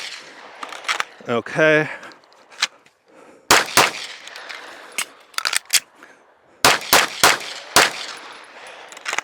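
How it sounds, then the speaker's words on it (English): Rapid pistol shots from a SIG P320 X5 Legion on a shooting course, sharp cracks in quick clusters with pauses between strings, close and loud, with a brief spoken word and a beep-like tone early on. "Okay, that was 24 shots,"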